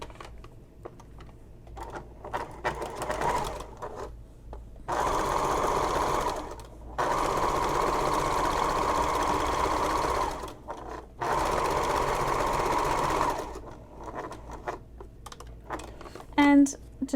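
Sewing machine top stitching across the top of a fabric messenger bag, running in bursts of steady rapid stitching separated by short pauses, close up and fairly loud, with brief handling noises between runs.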